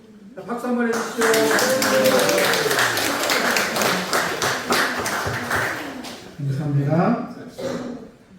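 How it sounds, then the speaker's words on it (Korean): A church congregation gives a round of applause during a Sunday worship service, a dense burst of clapping that swells and holds for several seconds before tapering, with speech at the start and end. "자, 박수 한번 해주시죠."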